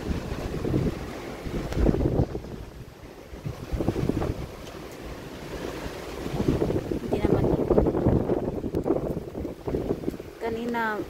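Typhoon Ragasa wind and rain battering in gusts, with heavy roaring wind noise swelling and easing and water rushing, loud and close, while a voice talks over it.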